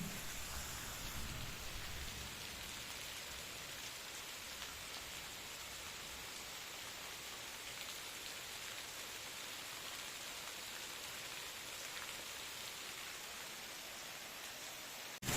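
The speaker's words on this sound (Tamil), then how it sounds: "மழையை பாருங்கள் எப்படி ஊற்றுது" Heavy rain pours down in a dense, steady hiss that lasts throughout, with no voices or pauses.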